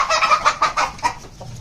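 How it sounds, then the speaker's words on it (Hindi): A newly arrived rooster clucks loudly and close by in a rapid series of short, bright calls, tapering off toward the end. "ये वाला आया है जी हमारा आज न्यू मुर्गा।"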